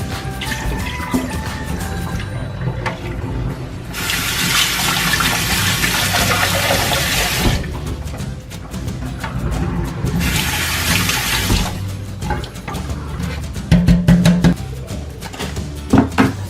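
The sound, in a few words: rinsing Bissell CrossWave parts with water in the sink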